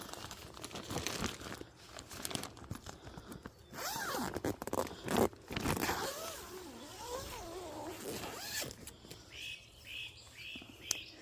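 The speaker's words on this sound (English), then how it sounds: "I think this one, the zipper's on the other side." Bag of potting soil being handled in a garden, with a zipper pulled open and plastic crinkling in bursts, followed by a few short repeated rasps near the end, close and fairly loud, with no talking.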